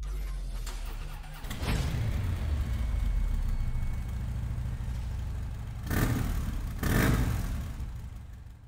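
A big-wheeled bagger motorcycle engine idles, then revs in three loud bursts, one early and two close together near the end, with a rumbling idle between.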